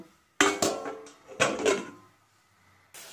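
A metal vessel set over a cooking pot as a makeshift lid on a lit gas stove, coconut simmering in a little water for rasapuli pitha; a handful of sharp, close metallic clanks and scrapes, then quiet.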